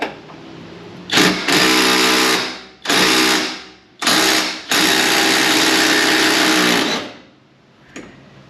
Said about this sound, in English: Now let's go ahead and get this rear bolt out. It's a 21 millimeter.